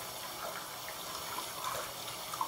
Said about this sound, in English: And I am going to add some hot water here